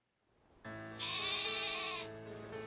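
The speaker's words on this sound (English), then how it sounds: "It's a sheep!" A single drawn-out sheep bleat in Pokemon Sword, clear and fairly close, rising then fading, with a faint electronic quality.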